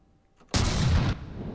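A heavy cannon broadside booms out in From The Depths, one loud sustained blast of roughly half a second that cuts off sharply and leaves a low rumbling tail.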